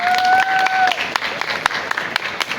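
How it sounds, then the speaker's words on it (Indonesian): Audience applause at a school orientation event introducing scouting, a steady patter of many hands mixed with crowd noise; a brief whistle-like tone rings out near the start. "Kasih tepuk tangan dong."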